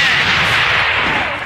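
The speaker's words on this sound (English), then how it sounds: "Fire in the hole! Has to be 125, is that you are Chinese? Grenade straight ahead!" A grenade blast in the shooter game AVA, heard as a loud, close, rumbling explosion that fills the whole moment and slowly tapers off.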